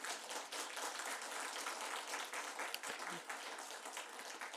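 Korean church congregation applauding their pastor during a worship service, a steady wash of many hands clapping at moderate distance, fairly faint and continuous with some background murmur.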